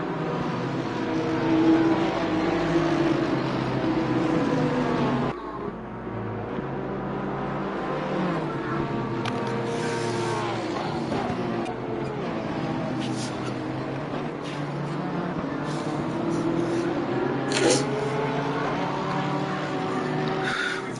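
Race cars lapping Misano in Assetto Corsa Competizione, engines droning and rising and falling through gear changes and braking into corners, with a commentator talking over the continuous engine noise.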